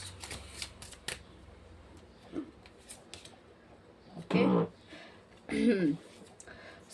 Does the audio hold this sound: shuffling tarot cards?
yes